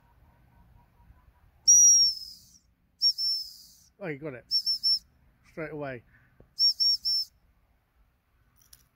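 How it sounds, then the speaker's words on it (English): Sharp, high dog training whistle blasts repeat in short bursts, including a quick set of three for the return command, with a person speaking briefly between them in a quiet setting. "the return whistle, the three blows"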